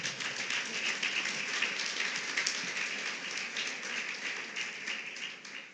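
A church congregation applauds at a service, a dense, sustained wash of clapping from many hands filling the room at a steady level without talk.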